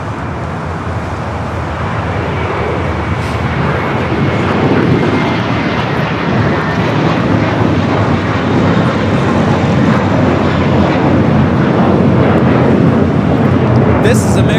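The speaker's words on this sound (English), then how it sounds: "This is American Airlines 2768 taking off to Dallas-Fort Worth on the A321." An American Airlines A321 jet takes off at LAX bound for Dallas-Fort Worth, a loud, steady engine roar that fills the whole stretch without letup.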